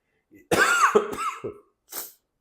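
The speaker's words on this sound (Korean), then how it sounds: "나 왜 그 기침도 해?" A close, loud cough in a few harsh bursts, followed a moment later by a softer breathy cough or throat clear.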